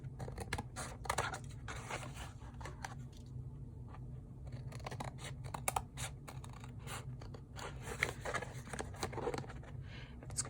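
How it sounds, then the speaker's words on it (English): Scissors kept for plastic snip through plastic at a crafting table, with close, irregular cuts, rustles and scrapes of material being handled between the snips. "these scissors that I have are specially marked for cutting plastic"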